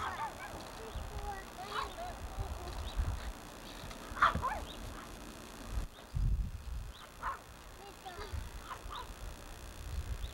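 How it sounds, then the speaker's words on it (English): Dogs bark at a distance outdoors, a few scattered yips and barks rising faintly over steady background noise, with people talking nearby. "I'm afraid of those dogs."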